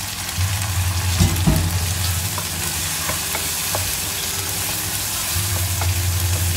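Tomato frying in a pan for fish sambal, a steady broadband sizzle with stirring clatter and a low hum running underneath, with no voices.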